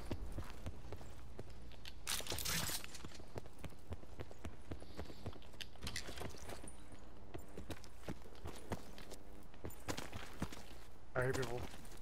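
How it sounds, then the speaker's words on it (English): Footsteps of nearby players in a battle royale video game, a quick run of soft rhythmic steps that patter steadily throughout, moderately close, under a voice talking over them. "I mean, they're not that close, but I heard footsteps."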